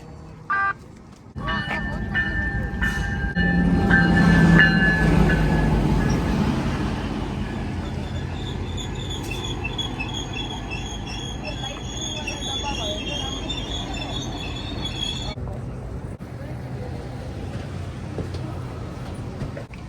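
Riding aboard a GO Train in Toronto: a steady interior rumble of rail travel with rising wheel squeal and high metallic whines, briefly louder early on, then a sustained hum with tonal squeals fading near the end.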